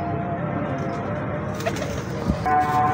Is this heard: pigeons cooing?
yes